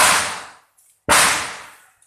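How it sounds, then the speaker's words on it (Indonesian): Two loud, close firecracker blasts go off about a second apart, each a sharp crack followed by a fading crackle, with near silence between them. "Ada petasan."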